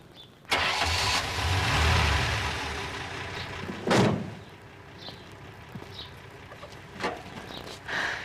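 A car engine cranks and catches after a repair, turning over with a loud burst and then settling into a steady mid-pitched idle, with a sharp knock or door-like thump partway through and a few faint clicks.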